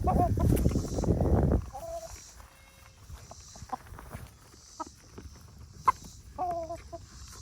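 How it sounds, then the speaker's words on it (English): Scattered clucks and short calls from roosters and chickens, with a loud burst of fowl noise at the start, then quieter intermittent clucking over a soft background. "The roosters want their share."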